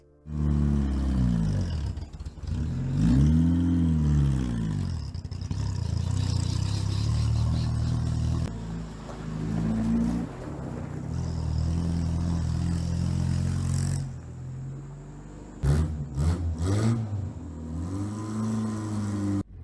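A rough old Toyota Corolla KE70 engine revs up and down repeatedly, rising and falling in pitch, with a leaky, rattly, blatting exhaust roaring close by.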